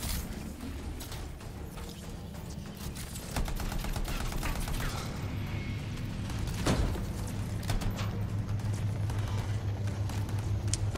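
Rapid gunfire from a player's weapon in the Anthem video game, a dense run of repeated shots at steady volume that fills the clip, with mechanical clatter mixed in and no talking.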